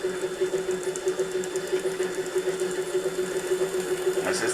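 A Kato Soundbox plays a model train engine sound imitating a four-cylinder engine, a steady rhythmic mechanical chugging with a constant hum, faint and even throughout.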